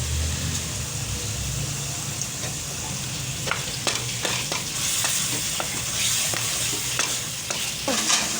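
Ghee goes into a hot pan of potato seekh kebab mixture with garlic and chili paste, giving a steady close sizzle with scattered scraping and tapping stir clicks throughout.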